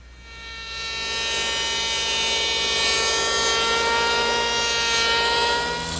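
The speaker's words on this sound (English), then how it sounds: "So to smooth that out, I'm going to use my handheld power plane." A handheld power plane smoothing the edge of a wooden armoire face frame, a loud steady whine with a bright harmonic tone that ramps up at the start and holds for several seconds, with no talk.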